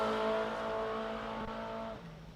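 Mustang drag car accelerating down the strip at a sports compact drag racing event, heard as a fading high-pitched engine whine that gradually drops away into the distance.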